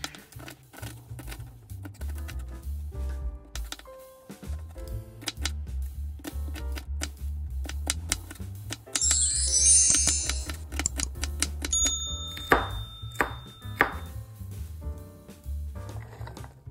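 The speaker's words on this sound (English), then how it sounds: "Chop the green beans and put them into the bowl." Green beans being chopped with a knife on a board, rapid rhythmic tapping that runs nearly continuously, close and moderately loud, with a low rumble and a brief metallic clatter partway through.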